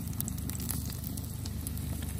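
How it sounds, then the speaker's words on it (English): Wild hog pork fat rendering down in a pan, giving a steady, close sizzle and crackle with fine popping spatters and no talk. "We're rendering this fat down. Rendering down the pork fat."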